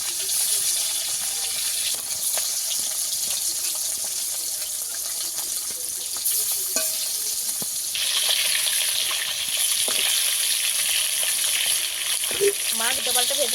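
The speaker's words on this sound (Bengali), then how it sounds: "তেল ভালোভাবে গরম হয়ে গেছে, এবারে মাছ দিয়ে দেবো।" Fish fries in hot oil with a loud, dense sizzle that runs without a break and swells louder partway through, with occasional spatters and light clinks close by.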